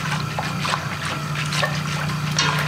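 Fruit juice for jelly is poured close by, a soft continuous liquid trickle and splash with small drips, fairly loud and alone over a low steady hum.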